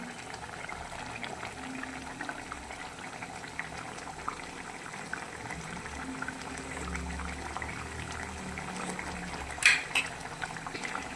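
Fish simmering in a pot of curry on the stove, a steady low bubbling and gentle liquid churn throughout, with a faint clink of a spoon against the pot near the end.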